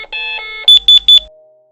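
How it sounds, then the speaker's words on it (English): LifeMax voice alert fall alarm for patient monitoring: a short electronic voice or tone phrase, then three loud, evenly spaced beeps that stop cleanly, close and alone. "when the patient sits up or moves significantly, the alarm will sound."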